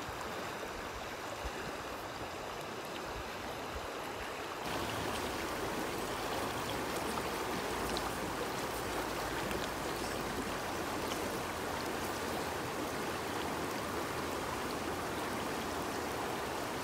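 The Buna River in Bosnia and Herzegovina flows as a steady, full stream, with broadband water rushing close by that grows louder after a few seconds and continues evenly without any talk.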